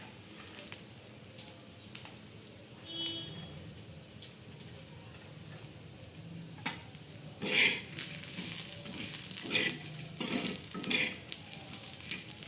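Black masala for a smoky brinjal curry with prawns and dried Bombay duck, roasting in a pan with soft sizzling and a few scraping stirs, livelier toward the end with clinks of a spoon against metal.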